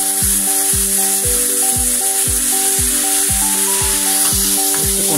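Sake and mirin splash into a hot frying pan and sizzle loudly and continuously, a dense close crackle that sits under a rhythmic thumping music track the whole time.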